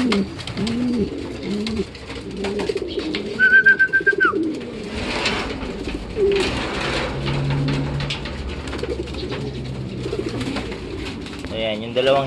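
Two pigeon hens coo in low, repeated throaty rolls, with brief higher bird chirps over a steady background of outdoor murmur and faint voices.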